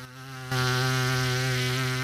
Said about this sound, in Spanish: el músico debe generar con los labios un sonido parecido al zumbido de una abeja